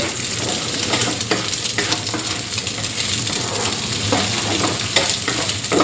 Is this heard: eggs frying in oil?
yes